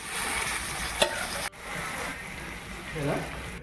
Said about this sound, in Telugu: ఇదంతా మ్యారినేట్ చేసి పెట్టుకున్న చికెన్ వేసేద్దాం అందులో